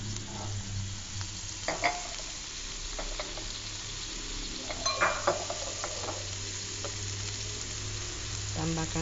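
Ginger, galangal and spices sizzle steadily in a hot pan while a utensil stir-fries and scrapes, with occasional light clinks against the metal.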